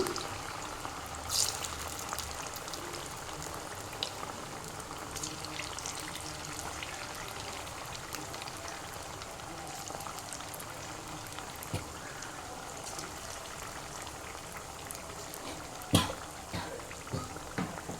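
Chicken frying and simmering in a pot for chicken sixty-five biryani, a continuous bubbling, spattering hiss with scattered pops and a few louder clinks, close and steady throughout with no speech.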